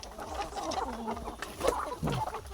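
Backyard Aseel and plucker chickens in the afternoon, soft scattered clucks and low murmurs at moderate distance, fairly quiet.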